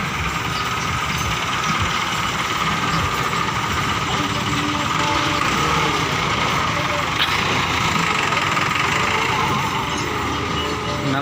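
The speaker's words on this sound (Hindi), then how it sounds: "नवा ट्रैक्टर है जी।" Engine of a new tractor idling nearby, a steady, continuous rumbling drone with faint mechanical rattling, holding an even level throughout with people talking over it.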